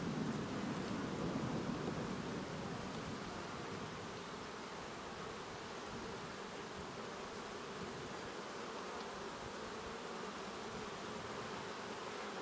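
Honeybees fill a beehive half-box placed without a queen excluder, giving a dense, even, faint hiss-like hum that holds steady throughout.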